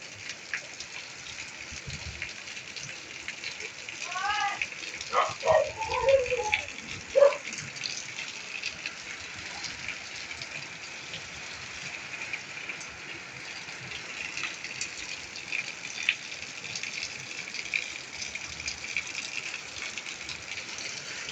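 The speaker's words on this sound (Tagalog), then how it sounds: "ganyan lang po yung pag-agos ng tubig dito sa amin" Steady rain with water running and trickling, a continuous wash of noise, with a few brief splashy bursts near the middle.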